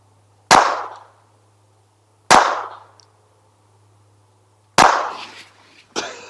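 A Rex Selentium MG22 .22LR rifle fires CCI semi-auto quiet ammunition: three sharp, close cracks about two seconds apart, each with a short decaying tail, then a fainter fourth pop.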